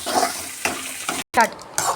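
Brief bursts of sizzling and stirring of karpooravalli leaves in a hot pan, close by, broken by short pauses and a scraping stroke.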